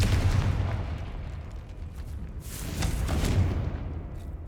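Deep, rumbling booms from the Confringo blasting spell in the video game Hogwarts Legacy, with a heavy burst at the start and another swell of rolling blast noise midway, dense and continuous.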